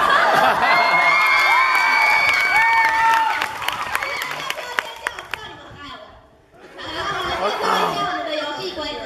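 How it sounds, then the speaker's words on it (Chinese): Applause and cheering from a crowd of students at a freshman orientation camp troupe performance, with whoops and laughter, loud for the first several seconds before easing off, a brief lull, then rising again. "为了这掌声，我们再来一次"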